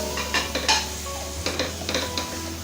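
Chopped tomatoes sauté in masala for a Kerala-style nadan chicken curry, with a spoon scraping and stirring against the pan over a soft, steady sizzle at close range.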